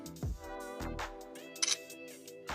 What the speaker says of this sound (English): Camera shutter is pretty quick on there.